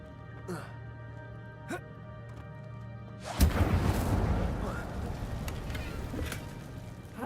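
A fire spell cast in Hogwarts Legacy bursts in with a sudden loud crackling whoosh midway, after a quieter stretch of ambient hum and a few soft chimes, then sustains as a broad roaring rumble to the end.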